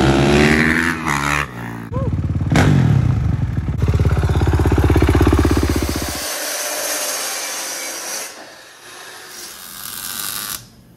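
A Kawasaki KX450 dirt bike engine running up close, loud and buzzing, with rises and falls in revs and a few clattering knocks, then settling to a steadier, quieter hum near the end.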